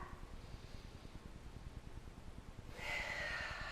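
A deep breath drawn during a core strength workout, a steady audible inhale and exhale close by with a brief rise in breathy noise near the end, no talk.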